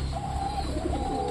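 Pigeons in a loft give low, steady cooing throughout, close and moderately loud with a faint higher call over the top, and no talking.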